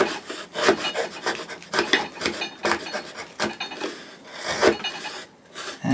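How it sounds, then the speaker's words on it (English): Chisel paring wood from a cupboard door panel joint, close scraping and rasping strokes in short uneven bursts, some sharper than others, with no talking. "just use my chisel to take a few bits"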